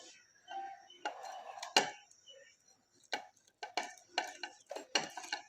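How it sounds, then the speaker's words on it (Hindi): Boiled eggs rubbed across a kitchen grater in short scraping strokes, with clinks of metal and bowl between them, quiet and close, in irregular bursts with pauses. "अब इसके साथ ही हम कर लेंगे अंडों को भी कद्दूकस।"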